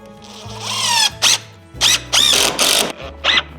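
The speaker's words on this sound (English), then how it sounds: "So I'll just go ahead and put a couple screws in here to hold it temporarily" A power drill drives screws into a wooden double shed door frame. The motor whines in several short, loud bursts separated by brief pauses, each rising and falling in pitch.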